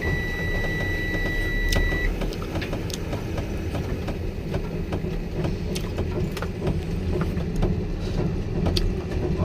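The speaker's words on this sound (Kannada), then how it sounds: "ಗಾಡಿ ಚಲೋ ಮಾಡೋಣ ಬನ್ನಿ." A goods vehicle's engine rumbles steadily up close, a dense low drone with scattered mechanical clicks and rattles throughout.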